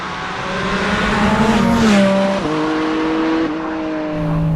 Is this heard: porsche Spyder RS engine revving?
yes